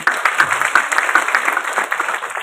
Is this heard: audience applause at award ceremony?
yes